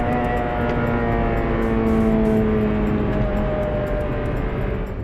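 A Honda VTEC engine pulls hard in second gear under acceleration, its loud steady drone climbing in pitch with a sudden shift partway through as the VTEC engages, with no talk.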